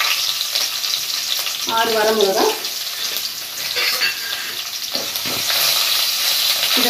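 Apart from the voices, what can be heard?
frying urad dal and dry red chillies in oil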